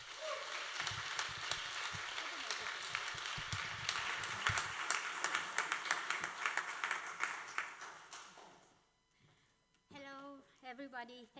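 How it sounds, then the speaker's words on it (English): Audience applause for a speaker at a Brexit-themed evening event, a dense wash of clapping that builds and holds for several seconds, then thins out and stops before a voice begins talking. "please give a great round of applause for Andra"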